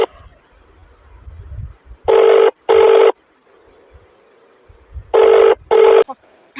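A telephone rings loudly in two double bursts, each pair a few seconds apart, with quiet stretches between, heard during a phone call in a Tamil drama.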